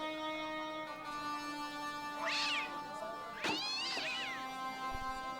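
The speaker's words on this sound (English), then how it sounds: "Ring the bell, scare the cat," A cat in the video game Broken Sword lets out two drawn-out, wavering meows after being startled, clear and fairly loud over a steady tonal game soundtrack.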